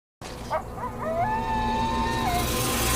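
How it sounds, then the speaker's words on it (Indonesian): A wolf howls in a film soundtrack, a long rising and falling wail that holds steady before tailing off, heard alone over a low ambient bed with a brief yelp at the start. "tiba-tiba mendengar aungan serigala"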